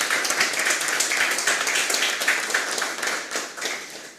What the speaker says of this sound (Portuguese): Eu convido a todos para aplaudir